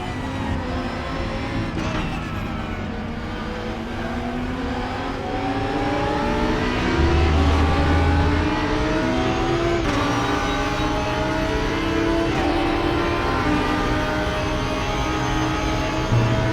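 A Lamborghini DTM race car engine screams through the RaceRoom circuit at Zandvoort, loud and close, pitch climbing and dropping through gear changes and throttle swings, with a brief low rumble partway through and no talking.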